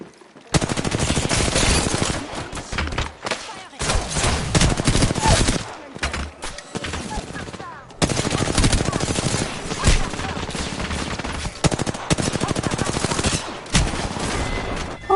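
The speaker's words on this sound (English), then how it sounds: "Listen up, I'm getting shot at." In a shooter video game, sustained loud automatic gunfire pounds out in long, dense bursts with only brief pauses between them, and voices speak intermittently beneath the shooting.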